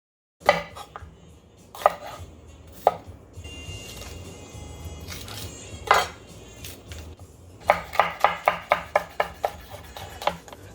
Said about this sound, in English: Cut the peppers.